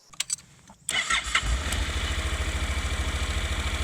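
A motorcycle engine cranks with a few brief clicks, then fires up and settles into a loud, steady, throbbing idle close by.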